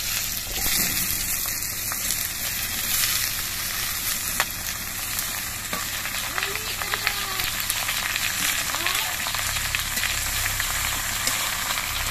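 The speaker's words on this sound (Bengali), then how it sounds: "এবার এর মধ্যে আমি কেটে রাখা লাউগুলো দিয়ে দিচ্ছি।" Chopped bottle gourd goes into oil with fried spices, setting off a loud, continuous close-up sizzle with faint stirring throughout.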